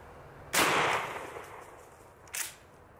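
A fast semi-automatic pump-action shotgun fires buckshot in two sharp outdoor blasts, a loud one with a lingering tail followed by a quieter second shot nearly two seconds later.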